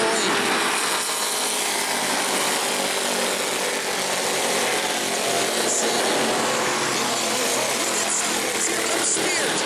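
Super stock cars race at New Smyrna, a dense, unbroken roar of engines filling the track, loud and steady throughout with a race commentator talking over it.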